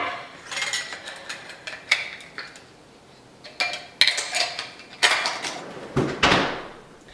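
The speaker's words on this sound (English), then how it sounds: "So I just throw those lids on there." Lids are snapped onto plastic food containers one after another, making a series of close, sharp clicks and hollow plastic knocks with short pauses between them.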